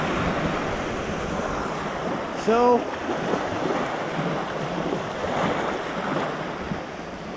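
Sea waves wash steadily at the beach in Roquetas de Mar, Andalusia, a broad constant surf rush with wind buffeting the microphone and a brief spoken word partway through.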